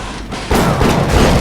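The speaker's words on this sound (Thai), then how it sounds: "ระเบิด" Explosion in the first-person shooter game Bioshock: a sudden loud blast halfway through, giving way to a dense rumbling roar that continues to the end.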